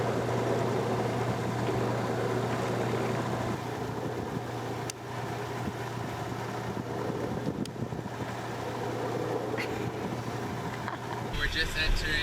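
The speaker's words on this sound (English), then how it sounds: "we pulled the main in and we're just running on the jib." A sailboat running downwind under jib alone at about four knots, heading into a bay channel at night, with steady wind and water rush and low hull rumble throughout, loud and close.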